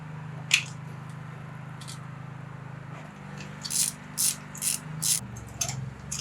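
A ratchet turns a long 16mm socket to loosen a spark plug on a MK2 Golf GTI engine, giving a few short, crisp clicking bursts in a steady rhythm over a low background hum.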